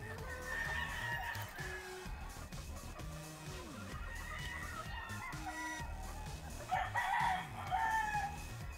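Golden Boy game fowl pullets on a game farm crowing and clucking, several birds calling at moderate distance with overlapping crows and short clucks over faint farmyard background.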